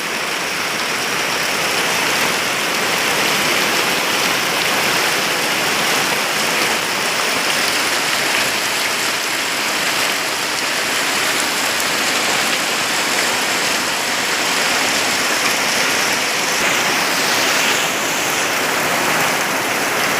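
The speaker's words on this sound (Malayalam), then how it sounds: "നല്ല അടിപൊളി ശക്തിക്ക് മഴയാണ്" Heavy rain pours down steadily on wet garden plants, a dense, continuous hiss of water that stays loud and even throughout with no voices.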